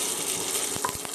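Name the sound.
seeds sizzling in a hot pan for vegan curry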